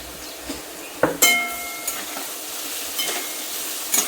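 Diced potatoes sauté in a pan with salt for bhagar, giving a steady soft sizzle broken by spatula scrapes and one ringing metallic clank against the pan.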